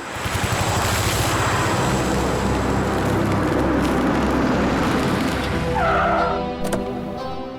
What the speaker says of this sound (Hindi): गाड़ी ढाबे पे लगाना